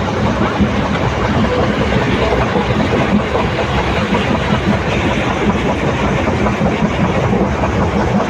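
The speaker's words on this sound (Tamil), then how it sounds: "ட்ரெயின் குலுங்கி குலுங்கி போகுதுங்க" Steady loud rumble of a train rolling on rails between Erode and Shoranur, continuous rattling, shaking and clattering from inside the carriage with no pauses.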